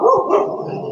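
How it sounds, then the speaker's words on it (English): A dog gives a single short, loud bark close by, with a brief tonal tail and no talk. "did that dog do that because it heard Speed say speak, Scott?"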